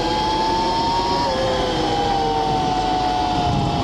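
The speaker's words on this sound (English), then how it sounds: "So it accelerates really hard, but it's super manageable at the same time." Extreme Wheel ES 88V electric dirt bike accelerating hard on its highest power setting, a steady rising electric motor whine with tonal lines sweeping up over wind and tyre noise, close and continuous.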